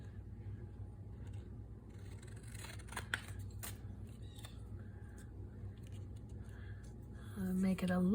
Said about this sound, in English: Glue it and cut it.